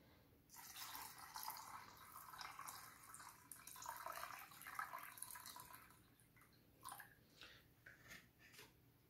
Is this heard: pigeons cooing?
no